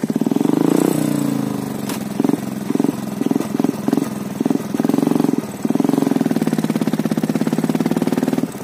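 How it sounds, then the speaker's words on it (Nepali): A motorcycle stuck in mud on a rough road in eastern Nepal revs in a string of short, uneven bursts, then holds a long, loud, strained roar, close by with no talking. "हाम्रो चाहिँ यहाँ बाइक फस्छ है हल्का।"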